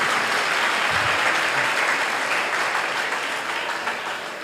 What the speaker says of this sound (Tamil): அதை ஒரு கைத்தட்டியே ஒரு நன்றி சொல்கிறேன்